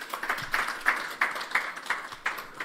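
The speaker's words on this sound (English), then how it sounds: "Another big round of applause" Audience applause at a gala film and TV awards night, a steady wash of many hands clapping with rhythmic swells, moderately distant and fairly soft, no talking over it.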